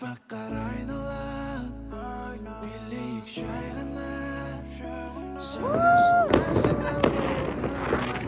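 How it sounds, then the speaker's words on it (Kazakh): At a New Year celebration, sustained tonal sounds give way to a rising whistle, then a burst of crackling pops from fireworks going off nearby. "Біз қазір салют атамыз."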